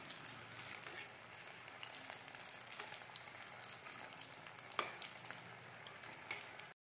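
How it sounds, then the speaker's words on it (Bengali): Egg-battered snacks fry in a pan of hot oil, giving a steady soft sizzle with scattered pops and crackles throughout, fairly quiet and close. "তো প্রথমে কেয়ারগুলো ভেজে নিচ্ছিলাম।"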